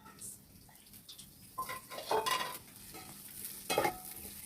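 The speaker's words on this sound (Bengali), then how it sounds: "এখন আমি পাট শাক ভাজি করে নিব।" Jute leaves (pat shak) fry in a pan over onion, garlic and green chillies that were browned first, giving a low crackling sizzle with louder bursts of stirring and scraping, and no voices.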